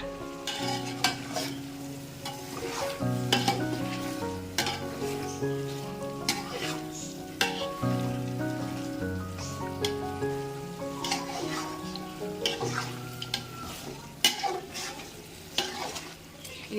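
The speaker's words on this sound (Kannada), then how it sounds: "ಇದನ್ನ ನಾವಿವಾಗ ತುಂಬಾ ಚೆನ್ನಾಗಿ ಒಂದಕ್ಕೊಂದು ಬೇರೆಯೋ ರೀತಿ ನೀಟಾಗಿ ಕಲಿಸ್ಕೋಬೇಕಾಗತ್ತೆ" Mutton is stirred and fried in a pan with coriander powder and masala for biryani, giving continuous sizzling with repeated scraping stir strokes close by, with almost no talk over it.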